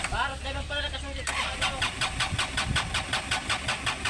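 An engine cranks briefly, then catches and settles into a steady idle with a rhythmic, knocking pulse, heard up close.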